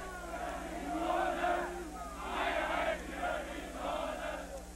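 Crowds in West Berlin jeer and shout at East German soldiers building the Berlin Wall in 1961, a faint, distant wash of massed voices rising and falling in several swells over a low steady hum.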